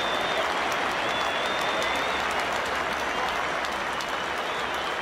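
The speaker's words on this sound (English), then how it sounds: "I think Kevin Peterson will get a wonderful applause." A stadium crowd at an England versus Sri Lanka cricket match applauds Kevin Pietersen after a 142-run innings, dense continuous clapping that stays loud and even throughout, with faint whistles above it.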